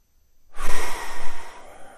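A single long, slow exhale during a guided meditation, rising suddenly after a brief silence and then tapering off gently, close and breathy, with no talking.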